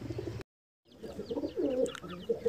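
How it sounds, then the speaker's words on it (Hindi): A pigeon coos softly in a few short, throaty warbling calls after a brief silence; faint rustling sounds are nearby. "मेरे हाथ में है ये कबूतर"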